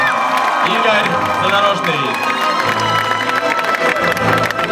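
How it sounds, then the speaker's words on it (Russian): An audience at a stage concert applauds and cheers loudly, with whoops and shouts rising over dense clapping throughout. A voice speaks briefly through the noise. "Аплодисменты!"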